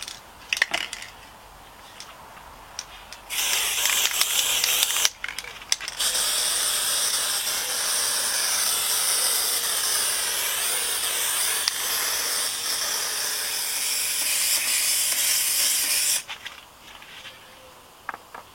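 Fabric glue sprays from an aerosol can onto door trim panels of a Peugeot 207, a short burst followed by a long continuous hiss of about eleven seconds, close and loud.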